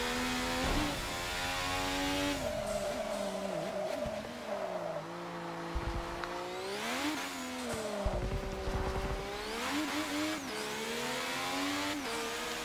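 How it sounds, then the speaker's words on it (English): A race car in Forza Motorsport 6 revs and accelerates through repeated rising and falling engine sweeps, with gear changes and brief tire noise, fairly loud and without talk. "You just listen to the car."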